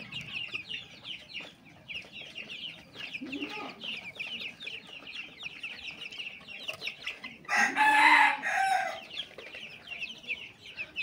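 A flock of 20-day-old Tiger breed chicks cheeps continuously and high-pitched, then a rooster crows loudly nearby partway through, with faint clucking beneath.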